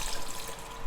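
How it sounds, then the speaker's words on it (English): Water poured from a container into a blender jar holding pepper soup ingredients, a brief close splashing trickle with no talk. "I'm going to add water so it can blend"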